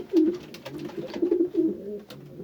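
Close, soft cooing of pigeons in a coop, several throaty warbling calls in a row, with faint rustling behind them.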